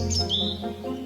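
A hoopoe gives short repeated calls, several clear notes close by in quick succession, with no voices.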